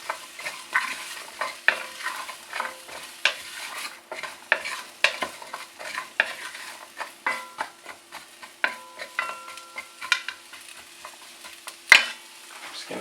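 A spoon stirs chopped vegetables and rosemary around a pot of stew, making intermittent scraping and shuffling strokes over a faint, soft sizzle, close and fairly quiet.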